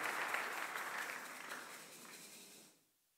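A church congregation applauding together, a steady wash of clapping that holds for nearly three seconds and then fades out quickly to silence.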